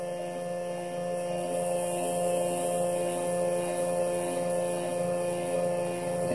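A stepper motor drives a motorized neck turner, giving a steady, even electrical hum and whine that holds at a constant level throughout with no pauses.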